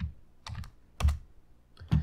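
Typing on a computer keyboard while entering code in RStudio, a few quick clusters of key clicks in bursts, close and fairly quiet with no talking.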